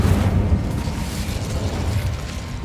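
Incendio fire spell cast in Hogwarts Legacy, a continuous roaring, crackling whoosh of flame with low rumbling bursts, loud and steady throughout with no talk.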